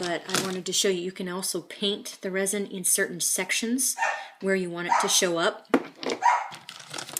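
A dog barks somewhere in the background, sharp yelps scattered beneath steady close talking about painting resin onto rocks.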